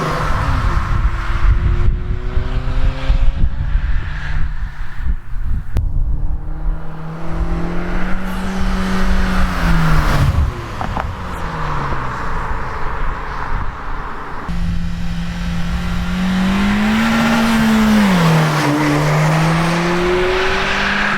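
A 2022 Honda Civic Si, 11th generation, revving and accelerating through gears, with rising and falling engine tones, loud and close from inside the car, alongside faint tire and road noise.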